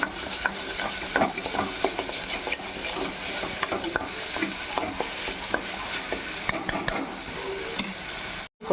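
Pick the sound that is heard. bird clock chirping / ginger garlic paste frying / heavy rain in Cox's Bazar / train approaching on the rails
ginger garlic paste frying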